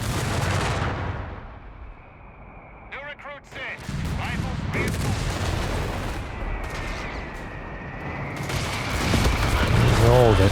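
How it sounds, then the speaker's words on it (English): Mortar and howitzer fire thunders in the video game Company of Heroes 3, a loud mix of booms, blasts and rumbling explosions spread across a chaotic battlefield din, with a voice talking over it. "Oh, got some howitzer fires."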